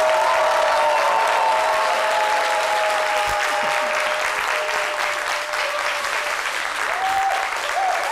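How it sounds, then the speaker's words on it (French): A warm studio audience at a live TV broadcast applauds steadily and loudly throughout, with dense even clapping and a faint tonal sound running underneath. "welcome avec les applaudissements de notre chaleureux public"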